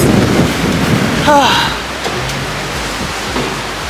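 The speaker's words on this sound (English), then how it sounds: "You hear how windy it is?" Strong wind buffets a cruise ship balcony in Bermuda, roaring loudly into the microphone in rough gusts, with a brief voice-like sound partway through.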